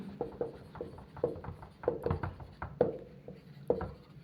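Chalk or marker strokes on a board during a chemistry lecture, a steady series of short scratchy taps and rubs at close range, with no talking over them.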